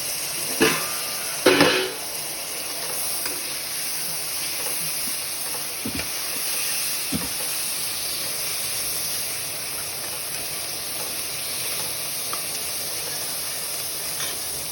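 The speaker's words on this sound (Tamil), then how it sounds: "இதெல்லாம் சேர்த்து நல்லா வதக்குங்க" Mint, coriander and green chillies sautéing in a pan for Coimbatore Anganan kadai biryani give a steady, close sizzling hiss throughout, with a couple of brief clatters early on.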